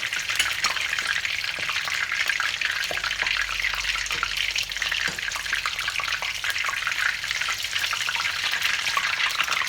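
Battered tempura basa fillet frying in hot oil, a steady, dense sizzle and crackle running close and continuous throughout with no talk over it.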